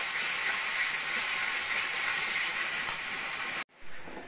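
Spiced masala with garam masala and Kashmiri chilli powder fries in oil in a pan, giving a steady bright sizzle that cuts off abruptly near the end, with no talking.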